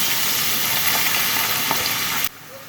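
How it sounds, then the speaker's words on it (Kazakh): Onions sizzle loudly in hot oil, a steady dense crackling hiss that cuts off abruptly near the end. "Ең алдымен пиязымызды қуырып аламыз."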